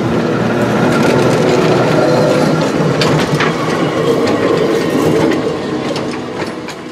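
Old Aarhus and Copenhagen tram running on rails at the Skjoldnæsholm tram museum, a loud close rumble with rattling and clacking wheel clicks that fades slightly toward the end, no voices.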